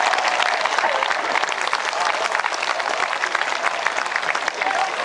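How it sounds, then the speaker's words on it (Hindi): A live audience at a Hindi comedy and poetry performance breaks into loud, sustained applause that holds steady and thick throughout, with faint crowd noise mixed in. "फिर आपकी तालियां चाहूंगा"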